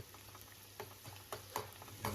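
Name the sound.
frying in a pan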